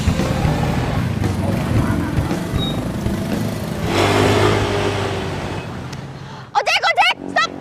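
An ojek motorcycle taxi engine runs at a steady mid-pitched drone under nearby talk, rising briefly before cutting off as voices take over at the end.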